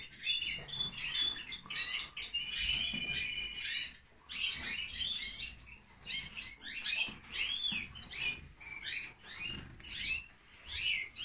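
Caged Spanish-breed goldfinches chirp and twitter nearby in quick, bright bursts with short pauses, a busy stream of high calls.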